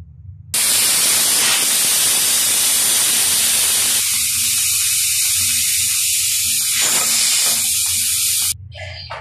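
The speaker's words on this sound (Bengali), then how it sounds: "এখন বসা দিব প্রেশার কুকারে" Steady loud hiss of steam escaping a pressure cooker holding a country chicken curry, a continuous broadband rush that starts abruptly, runs unbroken for about eight seconds, then cuts off.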